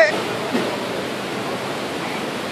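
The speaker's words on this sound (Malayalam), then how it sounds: "നോക്കൂ, അതാ വെള്ളച്ചാട്ടം" Waterfall seen from a high point on a trip in Palakkad, a steady, even rush of falling water heard from a distance, broad and continuous with no breaks.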